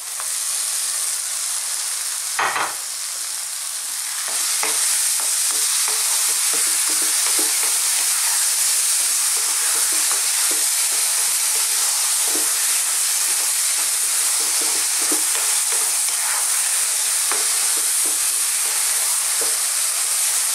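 Tomatoes fry and sizzle in a pan for an eggplant curry, a steady loud hiss running throughout with repeated scraping stirs, one sharper burst of sizzle early on, and no talking.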